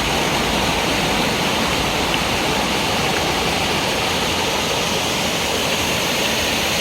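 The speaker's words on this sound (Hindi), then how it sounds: "रास्ते में आपको छोटे बड़े बहुत सारे अलग अलग टाइप के झरने दिखेंगे" A waterfall in a sandstone cave area in Meghalaya roars in a loud, constant rush of falling water, broad and unbroken from start to finish.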